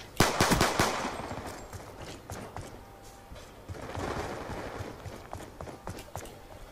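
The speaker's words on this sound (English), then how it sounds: "Who are you shooting at, Willis?" Rapid gunfire bursts in a multiplayer first-person shooter free-for-all match, loud dense shots at the start, then scattered shots and game noise continuing behind a player's commentary.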